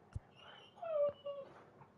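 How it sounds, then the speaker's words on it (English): Dogs whimpering and whining somewhere in the background, a few thin, drawn-out cries with a brief sharp yip near the start, fairly faint. "I don't know if you can hear the dogs in the background."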